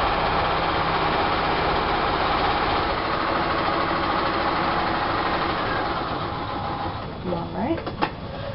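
A sewing machine stitching paper-pieced fabric gives a steady mechanical whirr that runs evenly throughout, loud and close, then eases near the end as it stops with a few clicks and knocks.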